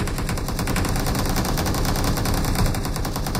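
Rapid, continuous automatic gunfire from the battle royale game BGMI, loud and close, with shots running together in an unbroken burst and no voices.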